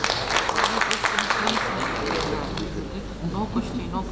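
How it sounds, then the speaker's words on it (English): Audience applause in a conference ballroom after a medical presentation, a dense burst of clapping that gradually thins out over a few seconds, with talking over it. "A lot of applause, please."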